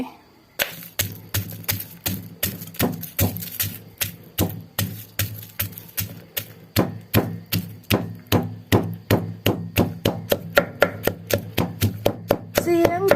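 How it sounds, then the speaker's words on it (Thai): Chili peppers are pounded in a mortar with steady, rhythmic thuds, dozens of sharp close strikes that speed up slightly toward the end, with no talking. "มาตำพริกกันเลย"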